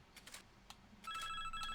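An in-game phone rings in NASCAR 2005 Chase For The Cup, a steady electronic trill that starts about a second in and carries on to the end. Softer interface clicks come just before it, and nobody talks.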